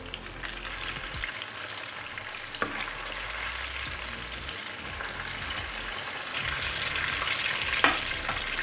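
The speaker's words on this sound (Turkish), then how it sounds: "Önceden ısıtılmış yağımızda tavuklarımızı kızartıyoruz." Loud, steady sizzling of breaded chicken drumsticks frying in preheated oil, with occasional small pops and clinks throughout.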